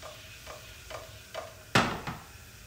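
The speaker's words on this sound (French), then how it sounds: "il va falloir faire, c'est bien réduire le vin de noilly avec les échalotes complètement à sec." Noilly Prat vermouth reducing with shallots in a pan, a soft simmering sizzle broken by a few stirring scrapes and one sharper clatter, close and quiet with no talk.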